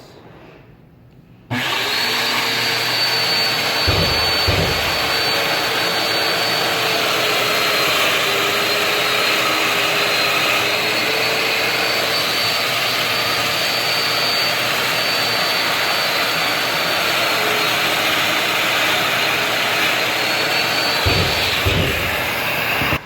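A Festool Domino DF 500 joiner cuts a mortise in wood, a loud, steady high-pitched motor whine with cutting noise that starts abruptly and runs unbroken for about twenty seconds, heard alone.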